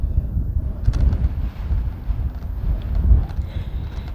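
Outdoor wind buffets a microphone in a steady low rumble with gusty surges, loud and close throughout, with no talking.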